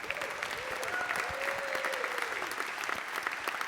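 A Brooklyn Book Festival audience applauds and cheers to welcome a speaker onto the stage, steady sustained clapping from a large crowd with a few whoops rising over it.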